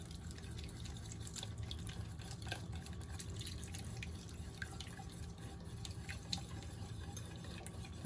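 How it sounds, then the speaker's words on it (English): Water trickles slowly into thick tahini while it is stirred for a vegan sesame dip, a faint, steady pour with scattered soft drips and light clinks over a low background hum. "I'm going to add a 1/4 cup, slowly, a 1/4 cup of water. And I want to mix this all up as I'm adding the water"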